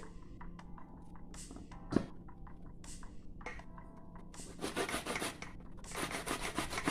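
Cassava is rubbed against a hand grater in short, rhythmic scraping strokes, quiet at first and then faster and denser toward the end, with one sharp knock partway through.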